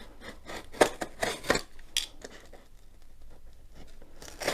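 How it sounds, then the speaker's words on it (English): A Stanley knife slices open a taped package, giving a series of sharp scraping, tearing strokes close by, followed by quieter rustling. "now I use a Stanley knife to open them."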